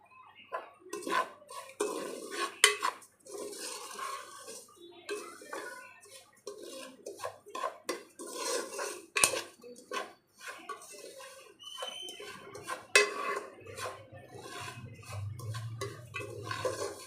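Bombay rava and dry coconut dry-roasting in a pan over a low flame, with repeated light scraping and stirring strokes that clatter irregularly, some louder than others.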